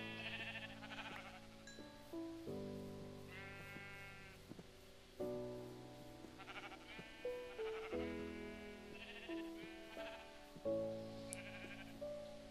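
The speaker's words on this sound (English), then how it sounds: "So I had to punch one more sheep to be able to get the wool that I need." Sheep in Minecraft bleat repeatedly, wavering cries recurring every second or two over a quiet game backdrop, moderately close and with no talking.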